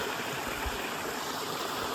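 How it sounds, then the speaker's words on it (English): A small mountain brook flows steadily beside a hiking trail on the Mahoosuc Arm, a soft continuous wash of water that stays even and unbroken throughout, heard alone with no voices. "Look at this beautiful little brook."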